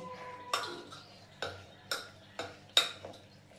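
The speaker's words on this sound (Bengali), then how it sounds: "আমি হাতে করেই না মাখিয়ে চামচে করেই মাখাচ্ছি।" A spoon stirs and mixes pumpkin flower paste in a dish, giving a series of separate scraping clinks roughly every half second, close and fairly quiet.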